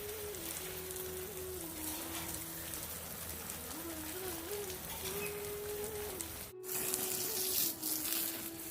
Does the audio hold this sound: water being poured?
yes